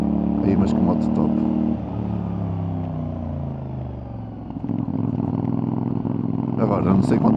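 CFMOTO 450NK motorcycle engine under way, a close continuous hum that dips slightly midway and swells again, with wind noise running through it.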